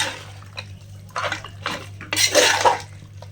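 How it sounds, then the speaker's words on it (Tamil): Mutton stir-fried in ginger garlic paste in a metal pot, with a spoon repeatedly scraping and clanking against the sides in irregular bursts over a low steady hum, close and fairly loud. "இந்த இஞ்சி பூண்டு பேஸ்ட்லேயே நல்லா நம்ம பரட்டி எடுத்துட்டு அதுலேயே நம்ம கொஞ்சம் வேக வச்சுக்கலாம்"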